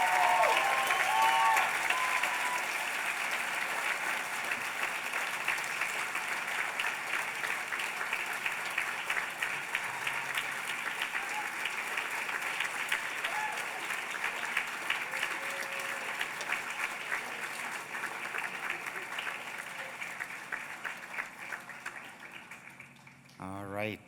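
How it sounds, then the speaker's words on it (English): Sustained audience applause at a medical school white coat ceremony, a broad wash of clapping from a large hall that holds steady for over twenty seconds and then fades, with a voice speaking over it near the start. "how about applause for the remarkable individuals in the back?"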